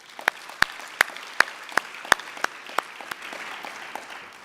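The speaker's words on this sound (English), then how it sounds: "Please give him a round of applause." Scattered, distinct handclaps at an awards ceremony, the 2018 CNBC Africa All Africa Business Leader Awards, a few sharp claps spaced apart and fading into faint murmuring rather than full sustained applause.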